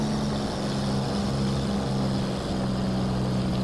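Hawker Hurricane fighter's piston engine droning steadily under power while pulling out of a dive after a spin, a loud continuous propeller roar with strong low harmonics throughout.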